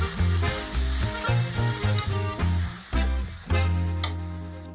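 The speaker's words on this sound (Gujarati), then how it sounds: "ઘીમાં તળવાનો છે, આને મસ્ત ફ્રાય કરી નાખવાનો છે" Grated carrot fries in hot ghee with a loud, steady sizzle, broken by repeated scraping and stirring strokes of a spoon in the pan, close up and with no voices.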